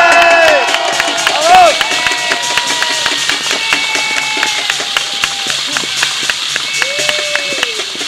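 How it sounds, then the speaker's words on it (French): Crowd at a festive outdoor march applauding and cheering a bride, with sharp claps and shouts over steady crowd noise and whistle-like tones, and voices talking throughout. "Je vous demande de l'applaudir bien fort"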